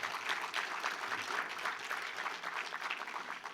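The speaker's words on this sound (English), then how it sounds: "Let's give the senator a round of applause." Dense, steady audience applause for U.S. Senator John Cornyn at a national security forum, sustained clapping from a crowd that stays even in loudness throughout.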